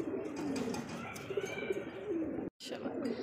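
Rasgolla pigeons coo steadily at close range in a farm setting, a low rolling murmur running almost throughout, with a brief dropout near the end and faint higher chirps above.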